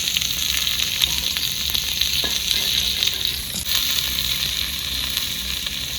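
Onion sizzling in hot oil with garlic, dried chili and cumin, a loud, steady close-up frying hiss that runs unbroken throughout with a few faint stirring knocks.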